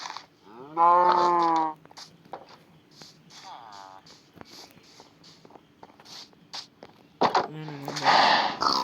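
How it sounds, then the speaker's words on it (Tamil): A cow in the Minecraft video game gives a short, loud moo near the start and another toward the end, with someone talking quietly through the middle. "ஸோ இப்போதைக்கு இந்த மாடை வெட்டிப்போம்."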